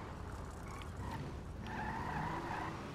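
A Vapid Ratel off-roader in GTA 5 Online drives over hilly terrain, its engine droning steadily with tire skids and scrabbling noises rising partway through.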